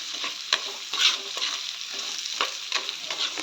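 Clam meat and potato fry being stirred in a pan with chili powder, a spoon scraping and turning the pieces in short irregular strokes over a steady light sizzle of oil.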